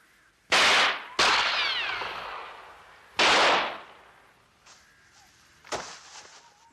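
Gunshots ring out in a French crime thriller: three sharp, loud reports in quick succession with echoing tails, then fainter follow-up cracks.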